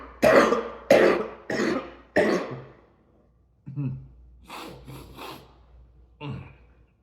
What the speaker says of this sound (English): I just had a massive cough attack.